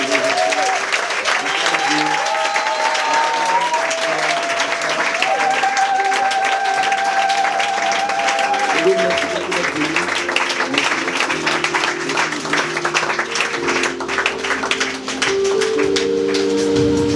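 A large congregation at a church gathering applauds and cheers to welcome a moderator, with loud sustained clapping and acclamation mixed with music tones throughout.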